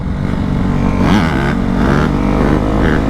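A Kawasaki KX450F dirt bike revs hard for a wheelie, its engine loud and close, rising and falling in pitch over a steady roar.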